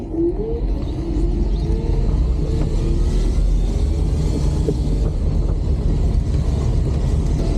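A yellow Renault R5 electric car rolls along at about 32 km/h, giving a steady low road rumble and tire noise with faint whining tones, continuous and close.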